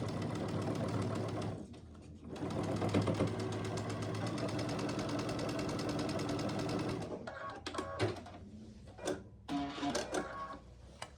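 A sewing machine runs steadily, stitching a quilt block seam for about seven seconds with a dense, even mechanical whir, then stops and starts in short bursts and clicks, alone with no talk.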